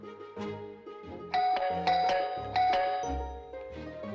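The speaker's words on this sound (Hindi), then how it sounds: "अम्मी नहीं, तुम्हारे अब्बा ने घंटी बजाई है।" A home doorbell rings with a loud, close ding-dong chime, its bright tones repeating several times over a low hum, with no talking.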